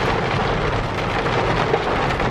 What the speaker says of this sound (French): Oh la tempête.